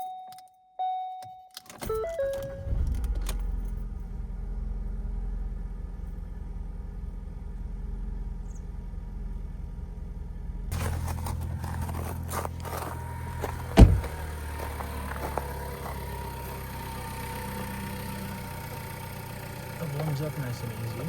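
A Ford Focus is started after a jangle of keys and a brief crank, then its engine settles into a steady low idle as it warms up, with the hum rising in level partway through and a sharp click or thump along the way.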